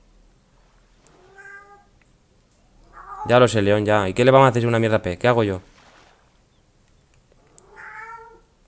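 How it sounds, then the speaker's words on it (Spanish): A hungry cat meows several times, short calls at the start and end with a longer stretch in the middle that is largely covered by someone talking close up in Spanish, set against a fishing game. "Mira el gato que dice que tiene hambre."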